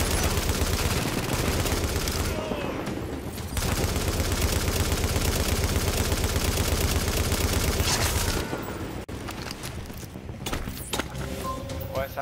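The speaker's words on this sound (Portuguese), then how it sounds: "Essa arma, essa metralhadora é muito, muito lenta pra recarregar" Sustained automatic gunfire from a machine gun in the shooter game Tom Clancy's The Division, loud and dense rattling bursts that break off briefly and resume, with no talk over it.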